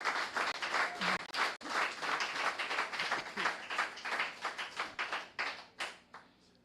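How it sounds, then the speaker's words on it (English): A crowd applauds a winning team at a debate awards announcement, the clapping thinning to a smaller group of distinct individual claps that slow and fade by the end. "So let's give Team Chuk Xavier a big round of applause, please."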